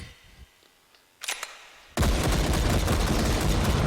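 .44 Magnum pistol fired in Hot Dogs, Horseshoes & Hand Grenades: a couple of sharp mechanical clicks, then a loud close shot whose roar and reverberant tail fill the rest of the clip, with no voices.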